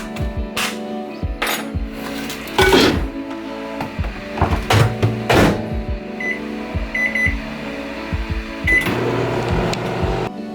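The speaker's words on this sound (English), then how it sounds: "there's a lot of microwaving to do" Microwave oven heating frozen TV dinners, with a steady hum running throughout, door and handling clunks, and a few short beeps from the control panel, heard up close in a home kitchen with no talk.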